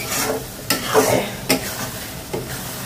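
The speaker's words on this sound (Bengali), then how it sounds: "শুকাতে শুকাতে একদম ভাজা ভাজা করবো" Whole garlic and dried fish sizzle steadily in a hot pan, punctuated by a few sharp scrapes of a utensil stirring.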